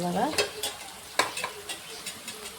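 Onions fry in a pan with tomatoes added, a spoon stirring and scraping in sporadic strokes over a soft, steady sizzle, close by.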